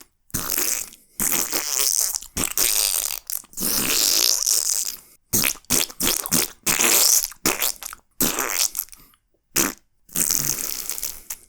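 A string of mouth-made fart noises, blown and sputtered by a voice imitating flatulence, comes in loud, close bursts of one to two seconds with short silent gaps between them, and no talking.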